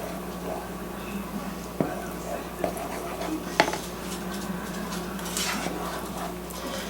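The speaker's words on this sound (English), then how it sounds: "we're going to stir this until it all melts" A spoon scrapes and taps inside a non-stick saucepan as a candy mixture for orange creamsicle fudge melts, a few soft clinks over a steady low background, with someone speaking nearby.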